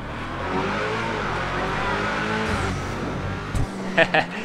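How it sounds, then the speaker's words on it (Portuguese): Hustler hot rod in GTA 5 Online accelerating through a tunnel, a steady loud engine roar with echoing rumble that builds and then cuts to a few sharp bursts near the end, with a voice faintly present. "Vamos dar uma acelerada aqui no túnel, ó."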